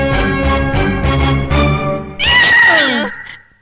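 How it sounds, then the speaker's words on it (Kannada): A cat meows in a scene from a Kannada comedy drama film: a loud, wavering, drawn-out cry that bends downward, following a stretch of other sound. "ಏನ್ ಸೌಂಡ್ ಅದು? ಬೆಕ್ಕು ಮಾಡ್ರಾಗೋ."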